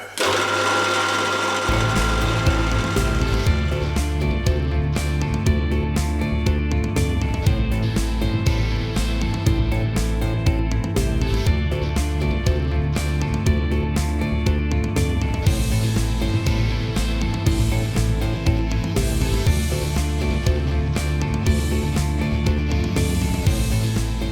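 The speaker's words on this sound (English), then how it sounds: "I just want to try and machine that weld down, and maybe these corners if I can reach them." A weld on the cutting head of a homemade materials shredder is machined down, with a loud, steady mechanical whir that starts after a brief pause and runs continuously to the end, with no talking.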